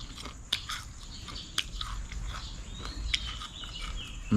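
Crispy deep-fried field rat being bitten and chewed up close: a few sharp crunches spaced out over a quiet background with faint insect-like hiss, no talking.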